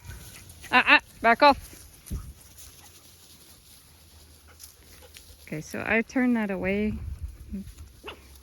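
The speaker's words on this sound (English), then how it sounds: "the dogs are having an argument" Dogs squabble on a pack walk, with two short bursts of sharp yelps and whining barks separated by a quieter stretch. A person speaks nearby.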